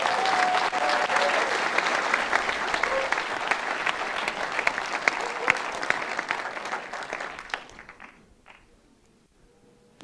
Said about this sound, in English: Now you can clap, make as much noise as possible.